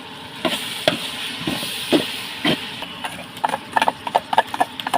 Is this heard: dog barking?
no